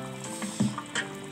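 Salmon sinigang soup with okra, tamarind and bok choy bubbling in a pot, a short spell of soft sizzling and bursting bubbles with a couple of louder pops, close and fairly quiet.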